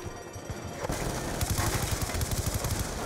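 Rapid automatic gunfire in the video game Call of Duty Black Ops II, a steady, fast rattle of shots over continuous battle noise, growing denser after a short quieter opening.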